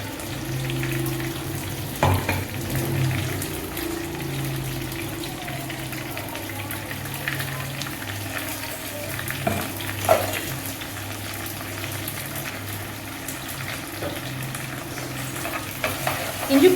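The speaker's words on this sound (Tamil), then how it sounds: "கருவேப்பிலை பச்சை மிளகாய் எல்லாம் போட்டு நல்லா வதக்கிக்கலாம்" Curry leaves, green chilies and ginger garlic paste frying in a pan for mutton gravy, a steady soft sizzle with occasional stirring scrapes and clinks, fairly close, with no talking.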